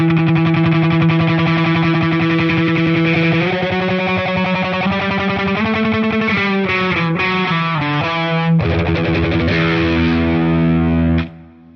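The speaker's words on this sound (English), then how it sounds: "Listen, it's an analog phaser." Electric guitar played through a Kmise vintage analog phaser pedal, with distorted sustained notes and chords that sweep with a slow phasing swirl, loud and continuous with no talking until a sudden stop.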